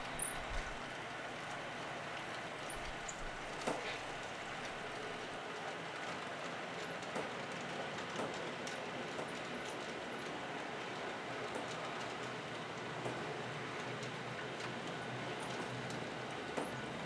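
A model train runs steadily along a home layout railroad, a faint continuous rumble and light rhythmic clicking of wheels on track, with occasional sharper clicks and no voices.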